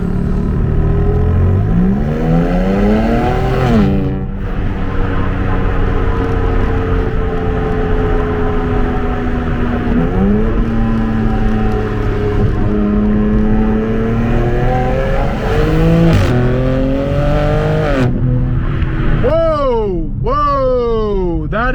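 BMW G82 M4 Competition accelerating hard, its engine heard from inside the car as a loud, continuous rising drone with repeated climbs in pitch and brief drops at gear changes, ending in a series of quick upshifts.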